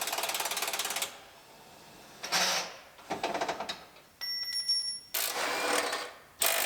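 A ratchet clicks in several quick bursts while unbolting a car's subframe bolt, close and fairly loud, with short pauses and a few metallic squeaks between runs.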